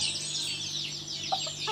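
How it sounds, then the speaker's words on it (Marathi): Traditional free-range village chickens on a backyard poultry farm in Ratnagiri, with soft clucks and bird calls running steadily through a short stretch at moderate distance, a steady hum underneath. "आपल्याकडे प्युअर गावठी कोंबडी आहेत"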